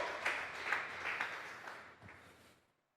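A church congregation claps during a Sunday service, a short burst of scattered applause at moderate distance that tapers off to silence within a few seconds.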